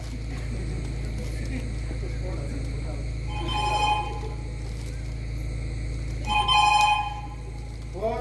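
A telephone bell rings in two short bursts over a constant low electrical hum, in a Marathi stage drama setting.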